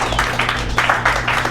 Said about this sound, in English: big round of applause for Ben.